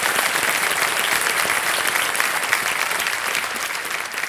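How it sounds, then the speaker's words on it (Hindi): Studio audience applauding on a televised Hindi quiz show, a steady dense wash of clapping that holds loudly and evenly from start to finish with no talk over it. "एक बार फिर से तालियों के साथ हम उनका स्वागत।"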